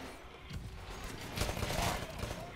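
Rapid gunfire in the video game Titanfall, a dense rattling burst that grows louder partway through, heard close over a noisy game backdrop.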